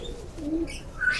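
Ferozpuri pigeons cooing, a soft low coo followed by a brief higher note, close and short with faint background noise.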